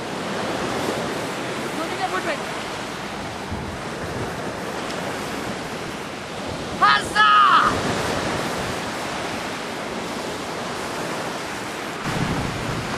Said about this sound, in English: I'm on the Pacific Ocean.